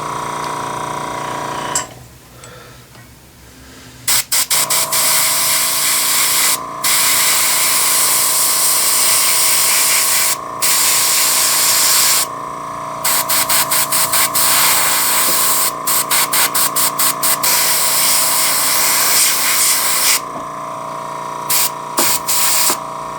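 Airbrush spraying rust-colored paint while weathering an N scale model locomotive: a loud, close, continuous hiss that runs for long stretches, broken by brief stops and quick on-off bursts as the trigger is worked.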